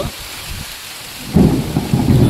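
Thunder rumbles low and heavy during a monsoon rainstorm, swelling partway through over a steady hiss of rain falling on surfaces nearby.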